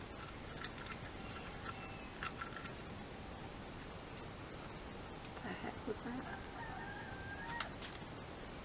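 A rooster crows faintly in the distance against steady hiss and background noise, with a few brief calls rising and falling across several seconds.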